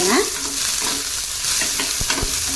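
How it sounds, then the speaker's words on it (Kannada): Cluster beans sizzling steadily in about a tablespoon of oil while being stirred for a village-style palya, with a constant frying hiss and a couple of sharp scraping knocks from the spoon near the end. "ಒಂದು ಟೇಬಲ್ ಸ್ಪೂನ್ ಅಷ್ಟು ಎಣ್ಣೆ ಹಾಕಿ ಚೆನ್ನಾಗಿ ಒಂದು ನಾಲ್ಕರಿಂದ ಐದು ನಿಮಿಷ ಫ್ರೈ ಮಾಡ್ಕೋಬೇಕು"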